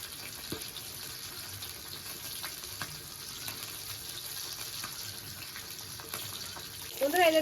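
A fish head fries in hot oil in a home kitchen, giving a faint, steady sizzling hiss scattered with small crackles. A brief clatter comes near the end.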